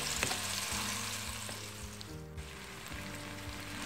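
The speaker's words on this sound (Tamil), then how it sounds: "மீதி இருக்கக்கூடிய நெய்யில நம்ம வேக வச்சு மசிச்சு வச்சிருக்கோம் இல்லையா சக்கரவள்ளி கிழங்கு, அதை போட்டுட்டு நல்லா கிண்டி விட்டுக்கலாம்" Mashed boiled sweet potato stirred and fried in ghee in a pan, giving a steady close sizzle with soft scraping strokes from the spoon throughout and no voices.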